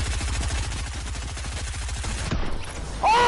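Rapid video game gunfire rattles in a fast, even burst for over two seconds, then cuts off before a short electronic tone sounds.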